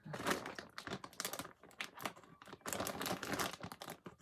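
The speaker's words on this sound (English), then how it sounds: "my scissors don't want to cut this plastic" Close, busy crinkling and rustling of a plastic bag with repeated short scissor snips and crunches as the scissors struggle to cut it, continuous over a few seconds with no voices.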